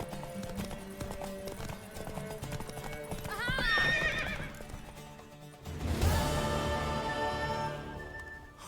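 Horse hooves clip-clop through a Witcher 3 game scene, a steady rhythm with a neigh and whinny rising partway in, set against a game music bed and layered effects.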